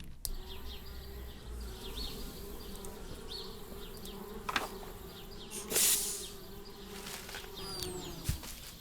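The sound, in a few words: bees buzzing in the video game Anna's Quest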